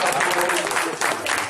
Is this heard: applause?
yes